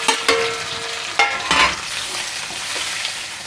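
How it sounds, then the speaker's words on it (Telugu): Tomato pieces frying lightly in a pan give a soft, steady sizzle, with a few sharp stirring scrapes near the start and middle. "ఇదిగోండి ఇలా లైట్గా ఫ్రై చేసుకుంటున్నాను అన్నమాట"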